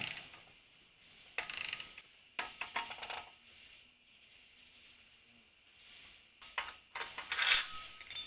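Hand ratchet cranking a bolt into an LS engine during a timing chain job on a 1979 Camaro swap, quick bursts of clicking pawl ratchets separated by pauses, close and fairly quiet.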